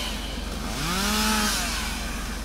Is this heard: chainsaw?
yes